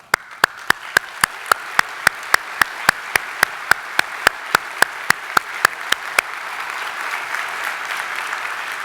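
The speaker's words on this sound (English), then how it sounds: "please give these folks a round of applause" A keynote audience claps in a steady, evenly spaced rhythm that then dissolves into a loose wash of general applause.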